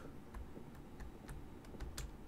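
Keys clack irregularly on a dirty computer keyboard during a first-person game, quick light taps spread over a couple of seconds against a soft background hum.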